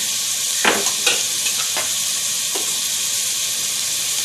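Spices, turmeric and tomatoes for chicken biryani are sautéed in a pan with a loud, steady sizzle and hiss, broken by a few scraping stirs of a spoon, with no one talking.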